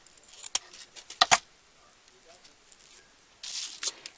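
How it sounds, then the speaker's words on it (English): A few sharp scissor snips trim excess ribbon from a handmade bow, with short cutting bursts close up amid quiet handling rustles. "I'm going to cut off the excess"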